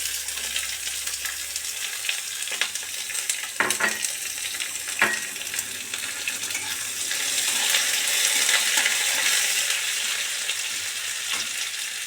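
Whole garam masala, bay leaves, dried red chillies, cumin and chopped onion hit hot oil, producing a loud, steady sizzle with a few sharp spatula clinks and bursts, building stronger toward the end, with no speech.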